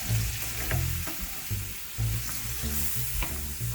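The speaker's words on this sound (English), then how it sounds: "So now I'm putting this onion paste and mix it well" Onion paste sizzles and fries in a pan while being stirred, with steady crackling and repeated scraping strokes of a spoon against the pan, close and continuous.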